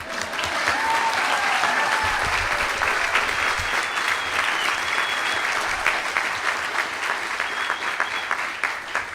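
Loud, sustained applause from a large audience at a Duke Nicholas School recognition ceremony, a thick, even roar of clapping that holds steady throughout with slight swells.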